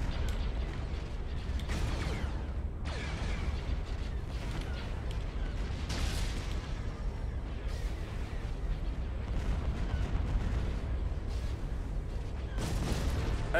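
Blasts and rumbling cannon fire from capital ships trading ion cannon and laser volleys in a Republic space battle game, loud and continuous with creaking mechanical hum and repeated booming bursts throughout.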